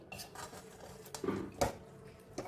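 Metal spoon clinking and scraping against a cooking pot of chicken and potatoes for Kolkata-style chicken biryani, a few short clattering knocks and scrapes over low kitchen background, no talk.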